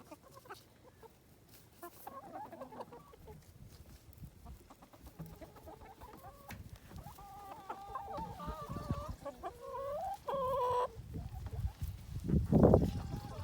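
Farmyard chickens cluck and murmur in a busy cluster, with scattered calls building in volume toward the end and a loud squawk near the finish; no talking is heard.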